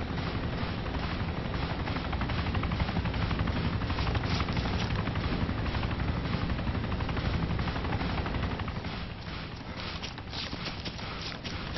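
A helicopter in a zombie video game gives a loud, continuous rotor thump and mechanical roar close by, with steady rapid chopping texture throughout and no talk over it.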